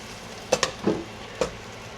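Onion and garlic fry in a pan in a home kitchen, giving a soft, steady sizzle. A few sharp spatula taps and scrapes sound close by, with no voices.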